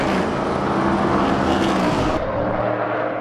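Endurance race cars in the 2017 European Le Mans Series blast down the pit straight, a dense, loud, continuous roar of engines close by that abruptly thins out near the end, with no talk.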